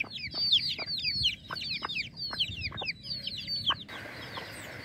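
Hens foraging in grass with their chicks give repeated close clucks, while high, thin chick peeps chirp steadily over them throughout.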